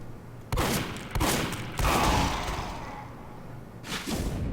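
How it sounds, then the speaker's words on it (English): Video game gunfire from two players shooting at each other, several heavy booming shots in quick succession with a lingering reverberant tail, loud and close. "So who do you think dies first if we shoot at the exact same time?"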